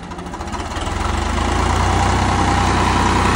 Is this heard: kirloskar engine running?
yes